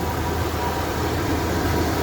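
A 1999 Chevrolet Suburban 2500 LS 4x4 idles smoothly and evenly, a steady, unbroken low engine hum with no stumbles, heard alone.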